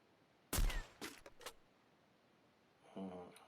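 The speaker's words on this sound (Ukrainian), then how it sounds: "знизу стріляє" Gunfire in the Free Fire video game: a few sharp, fairly faint shots ring out in quick succession, followed by a short burst of quiet speech.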